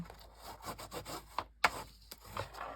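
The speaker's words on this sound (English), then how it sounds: "use this is not as comfortable to me, but you can give it a burnish" A bone folder rubs and burnishes across paper in short, quiet strokes, a dry scraping rhythm with a few sharper scratchy passes, close up and alone.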